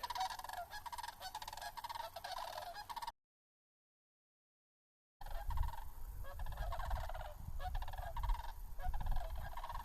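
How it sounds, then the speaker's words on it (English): Cranes calling in flight over a river on a farm, a steady run of loud, close honking cries in two bursts separated by a short gap, with wind noise low underneath. "There's cranes."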